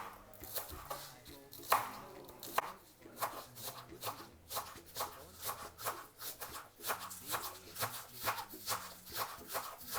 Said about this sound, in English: So you just want to cut it up